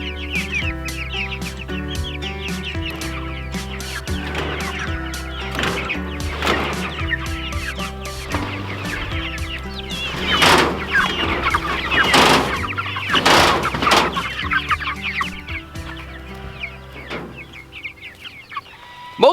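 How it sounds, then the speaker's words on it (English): Cornish cross meat chickens, white broiler birds in a backyard flock, cluck and murmur almost nonstop at close range, with a busier burst of calls in the middle and no talking. "the Cornish cross, which is the white chicken that we're raising right here"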